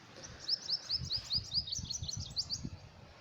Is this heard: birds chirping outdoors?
yes